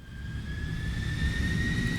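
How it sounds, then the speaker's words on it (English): A jet fighter in flight, used as a sound effect, roars steadily with a broad low rumble and a sustained high whine that rises slightly in pitch over two seconds, loud and continuous with no voices. "I found this airplane sound"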